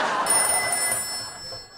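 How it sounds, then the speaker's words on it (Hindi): A telephone rings in a short, loud burst of bright electronic tones, heard alone with no voices over it. "अभी मैच चालू भी नहीं हुआ लगे फोन बजने साला।"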